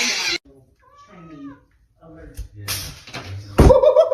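A pet cat, kept in someone's jacket, makes meow-like vocal sounds amid excited human voices and a sharp slap-like hit near the end.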